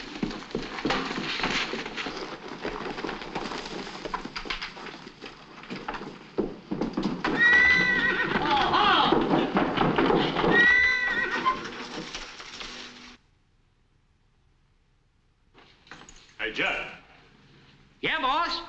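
Horses whinny and neigh amid a busy Western comedy scene, with hoofbeats and shouting voices over the first thirteen seconds, then near silence before a few more brief whinnies and calls near the end.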